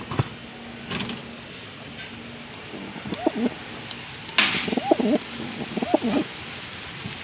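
Soft, low bird coos repeat in short phrases against a hissy outdoor background, with occasional faint clicks and knocks.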